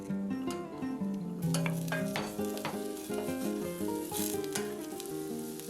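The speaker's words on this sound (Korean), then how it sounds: "버터를 녹이고 썰어 놓은 양파를 먼저 볶아줍니다." Sliced onions sauté in melted butter in a pan with a steady, close sizzle and light stirring, while background music plays throughout.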